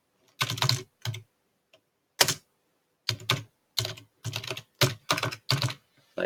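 Code being typed on a computer keyboard: short irregular bursts of crisp key clicks separated by brief pauses, close up and alone without talk.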